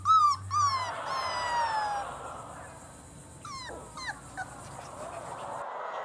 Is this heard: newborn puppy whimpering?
yes